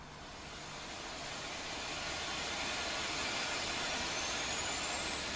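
Engine 1 of an iniBuilds A350 airliner spooling up during start in Microsoft Flight Simulator 2024, a faint, steady broadband hiss and whine that slowly grows louder over several seconds.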